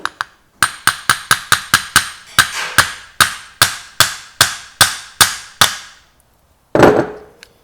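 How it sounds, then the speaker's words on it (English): A broken hammer strikes a metal part of a Mirka DA sander repeatedly in a steady rhythm, about twenty sharp, ringing taps close by, pausing briefly before a final clatter. "I'm gonna have to use my broken hammer."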